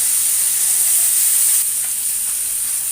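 Fish frying in hot oil in a pan gives a steady, loud, close hiss and sizzle that runs unbroken throughout, with no talking.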